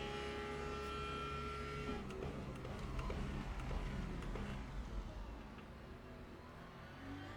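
Porsche race car engine in a sim racing video game hums steadily at a constant moderate pitch, a faint, even drone with slight wavering and no clear revving, heard alone.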